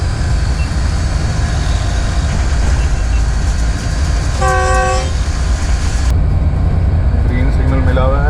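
A GEU20 locomotive runs through Bakdala railway station on a green signal, heard from the cab as a steady loud rumble and clatter, with one short horn blast midway.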